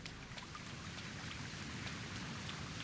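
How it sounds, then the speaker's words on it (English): Rain pours steadily in the SenGoku Dynasty video game, a soft, even hiss of drops on surfaces, faint and unbroken for the whole stretch with no voices. "The rain, the storms, the sounds of the storm, listen to it."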